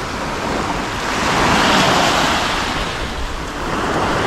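Sea waves washing onto a beach, a loud continuous surf roar that swells in the middle, with wind buffeting the microphone and no other sounds.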